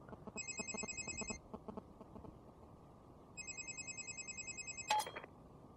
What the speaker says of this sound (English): That nice sort of cell phone interference sound.